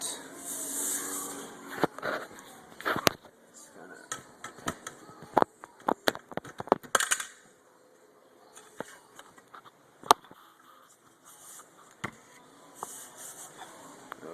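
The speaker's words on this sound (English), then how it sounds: "Alright, now we can go ahead and pull off the tailpipe carefully." The Yoshimura exhaust tailpipe is worked off a Yamaha R6, giving scattered sharp metallic clicks, clanks and scraping knocks at irregular intervals, close and moderately loud, over a faint background hiss with no talk.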